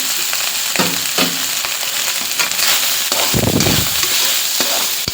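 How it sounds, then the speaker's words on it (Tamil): Cooked rice is stirred and mixed through hot oil in a pan for lemon rice, with close, repeated spoon scrapes and clacks over a steady sizzle, one louder thick churning push standing out midway. "இப்போ வந்து நம்ம சாதம் போட்டு மிக்ஸ் பண்ணிடலாங்க. நல்லா ஆயிலாம் வச்சுக்கலாம், நல்லா மிக்ஸ் பண்ணிடலாம்."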